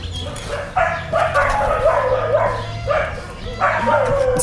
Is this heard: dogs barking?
yes